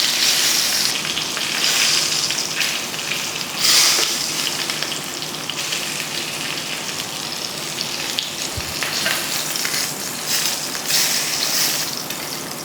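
Mutton pieces sear in a hot pan without oil, giving a loud, continuous close sizzle with crackling surges and a few faint clinks throughout.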